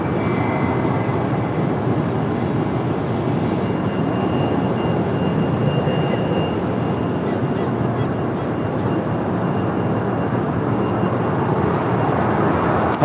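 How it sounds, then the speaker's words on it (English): A United Airlines A320 arriving at LAX from Phoenix, a broad, continuous jet engine roar that stays loud and steady as the aircraft passes nearby. "Coming in from Phoenix, Arizona, Flight 2035 there with United on this A320."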